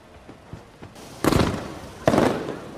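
Fireworks pop and crackle in a film scene at a beach at night: faint thumps first, then two loud, close bursts with crackling tails.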